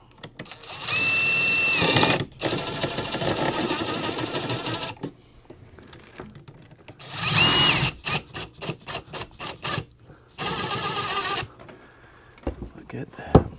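Cordless driver cinching a hose clamp onto a diesel heater fitting, whirring in short bursts with pauses, close and moderately loud, with a few quick clicks between runs.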